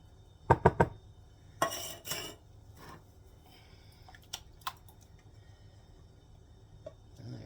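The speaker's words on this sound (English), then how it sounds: "we're going to put 2 cans of the cherry pie filling in there" Two cans of cherry pie filling emptied into a sprayed baking pan, with sharp metallic clinks and scrapes early on, then thick wet plops and softer taps scattered through a quiet kitchen.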